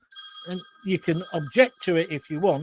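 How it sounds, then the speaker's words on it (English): A mobile phone rings with a steady electronic tone running under a man's continuous speech throughout, the ring sitting quietly behind his voice. "That's my phone going off."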